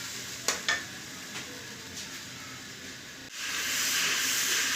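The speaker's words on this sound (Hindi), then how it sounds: "ये देखें, लहसुन अदरक हमारा काफ़ी भुन गया है, अच्छे से बिल्कुल गल भी गया है।" Garlic and ginger frying in a pan for chicken pulao, a steady sizzle and hiss with a few brief scraping stirs early on, the sizzle swelling louder toward the end, with no talking.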